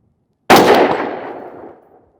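A single rifle shot fires Atomic 77 grain match ammunition: one sharp, loud crack followed by a decaying echo tail lasting over a second, with no voices.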